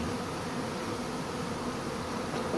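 Honeybees buzzing steadily inside an opened hive while a queen is searched for, a dense continuous drone close by and alone with no talk.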